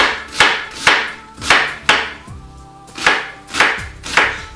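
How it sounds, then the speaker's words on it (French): A knife chops cleaned green onions into rounds on a cutting board, giving seven loud, evenly spaced thuds with a short pause midway, close and with no talking. "On les prend et on va se couper des rondelles d'échalotes"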